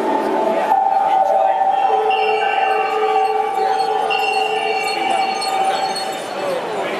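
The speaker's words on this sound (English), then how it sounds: "this is the sound of the bells as they are now." Sampled bells and wind chimes played back on a keyboard through iZotope Iris sound as sustained, shimmering ringing tones layered over a steady wash, continuous and fairly loud throughout.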